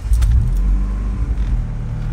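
A Honda D16Z6 engine with a Type R throttle body revs hard at full throttle, a loud low rumble that surges near the start and then holds steady.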